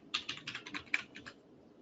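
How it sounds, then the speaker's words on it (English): Quick, close typing on a computer keyboard: about a dozen light clicking keystrokes in an uneven burst, fairly quiet, with no voices. "I will now type in concrete suppliers."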